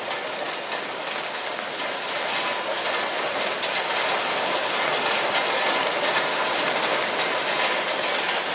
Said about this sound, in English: That rain looks pretty heavy though, doesn't it?